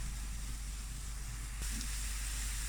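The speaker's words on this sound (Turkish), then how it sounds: "Şimdi soğanı kavuralım." Chopped onion and pepper sautéing in a hot pan, a steady broadband sizzle and hiss that runs continuously at moderate level, with a slight surge partway through as the food is stirred or shifted.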